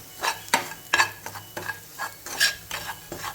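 Masala with stuffed ridge gourd roasting on a low flame, with repeated spoon scrapes and clinks against the pan every half second or so over a soft, continuous frying sizzle, close and clear with no talking.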